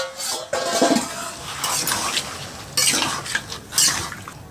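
Pre-boiled mutton pieces tipped into a pot of spices and stirred, with clattering metal utensil scrapes and knocks against the pot in irregular bursts over a low background.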